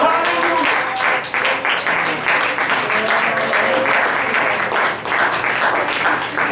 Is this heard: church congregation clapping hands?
yes